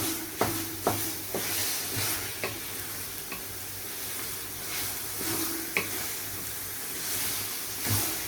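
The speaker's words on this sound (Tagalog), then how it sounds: "mga 5 minutes na nagisa na dito sa kamatis." Tomatoes sauté in a hot pan with a steady close sizzle, broken by occasional light clicks and scrapes of a stirring utensil.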